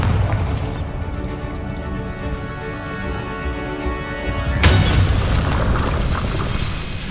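Bombarda spell blasting apart a wall in Hogwarts Legacy, a loud, dense roar of rumbling debris that swells into a bright, crashing burst near the end and keeps roaring.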